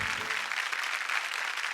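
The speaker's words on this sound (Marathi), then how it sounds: "एकदा जोरदार टाळ्या होऊन जाऊ दे" A television studio audience at a women's celebration show claps loudly, a dense, steady burst of applause from a crowd throughout.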